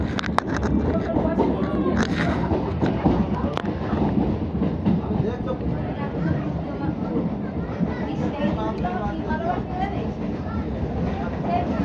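A train on the Dhaka to Kolkata route pulls out and rolls along the rails with a steady, close rumble and faint clatter, as people talk over it.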